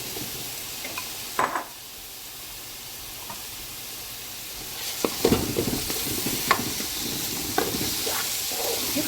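Sweet peppers hit hot oil in a pan for shrimp broccoli pasta, bringing a steady sizzle with sharp clinks and stirring scrapes, growing busier and louder after a quiet start.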